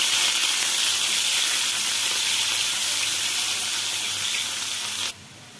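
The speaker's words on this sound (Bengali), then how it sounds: "পেঁয়াজগুলো একদম লাল লাল করে ভেজে নেব।" Sliced onions sizzle and fry steadily in hot oil in a Bengali kitchen as a macher korma gets underway; a dense, close, continuous hiss with no talk that cuts off abruptly near the end.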